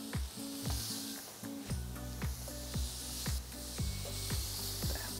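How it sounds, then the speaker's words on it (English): Pineapple pieces sizzling on a hot grill pan: a steady, close hiss with repeated sharp spitting pops at a regular rhythm, alone with no voices. "So I've got a hot grill pan. I'm just putting pineapple."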